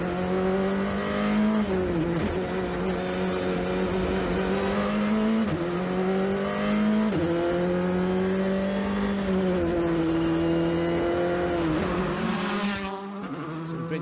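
Former-generation Skoda Fabia R5 rally cars race flat out on a stage, engines loud and close, revving steadily with gear-change dips and tyre squeal near the end.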